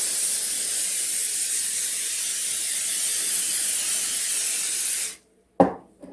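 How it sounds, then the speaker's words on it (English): Butter-flavored oil spray hisses continuously onto chicken for an air fryer for about five seconds, loud and close, then cuts off, followed by a brief knock. "I like to use the butter flavored spray"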